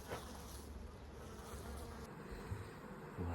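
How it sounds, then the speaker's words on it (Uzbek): A close swarm of honeybees gives off a steady, continuous buzz that stays even and fairly quiet throughout, with no voices. "Nega men bu arilarni qamab olganman?"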